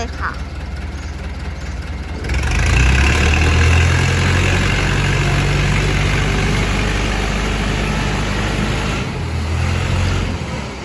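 A Komatsu JH30 wheel loader's diesel engine idles, then revs up to a louder, steady low rumble that holds for several seconds before easing slightly near the end, close and loud with a dense mechanical roar.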